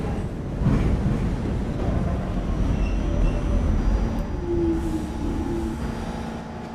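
Rumbling M subway train from a video game running along the Grasslands Turnpike line, a steady loud low drone with faint rail squeals throughout, no talking.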